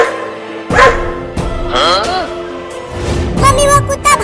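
A cartoon dog barks in a few loud, close bursts, mixed in with animated voices talking over and between the barks.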